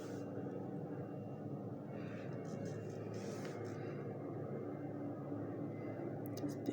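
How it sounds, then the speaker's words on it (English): A fixed-wing aeroplane passes overhead, a steady, broad distant engine roar that holds level throughout without a clear rise or fall. "there's an aeroplane passing right now."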